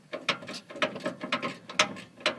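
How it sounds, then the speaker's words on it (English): A ratcheting wrench loosens the drive line bolts on a Hummer, giving a quick series of sharp, close mechanical clicks in an uneven rhythm. "I'm using a wrench, but they weren't very tight"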